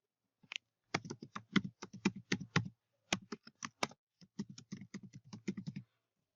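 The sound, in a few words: typing an email address on a computer keyboard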